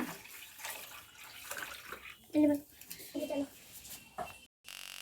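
Water from a household tap running into a bathroom vessel, a faint continuous splash under nearby talk, with a voice and an adult speaking over it.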